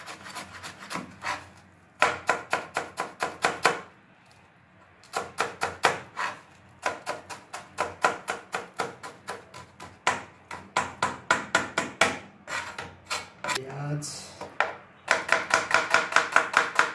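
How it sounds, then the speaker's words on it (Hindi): An onion is finely chopped with a knife for muli paratha, with quick rhythmic runs of sharp chops on a board separated by brief pauses. "प्याज को बारीक काटना है।"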